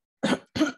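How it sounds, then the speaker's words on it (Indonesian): Two short, sharp coughs from a single person, close and distinct with a brief pause between them, otherwise silent. "Maaf ya, saya lagi batuk soalnya."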